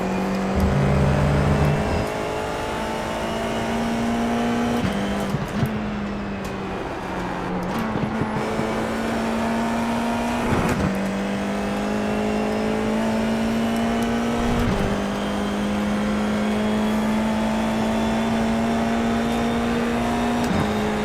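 The Formula iR-04 race car in iRacing at Brands Hatch drones loudly and close, its engine note stepping up through the gears with brief dips at shifts, continuous for the whole stretch.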